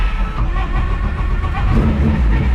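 A Honda CRX engine hums and revs up through a gear change, a steady close-miked motor drone from inside the car with no talk over it.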